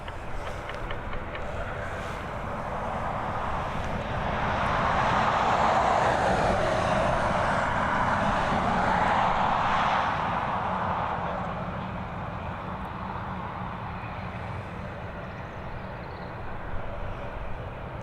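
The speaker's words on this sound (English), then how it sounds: "This ATR regional heading over to Bristol." ATR regional turboprop airliner on approach at Dublin Airport, a distant broad engine roar swelling to a peak midway and then slowly fading away.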